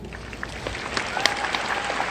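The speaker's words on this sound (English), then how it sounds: "Let's have a huge round of applause for the EWG class of 2019" Scattered clapping from a modest crowd at a high school graduation ceremony, sparse at first and building slightly, with a few sharper individual claps standing out.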